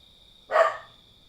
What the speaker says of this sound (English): Why is he barking?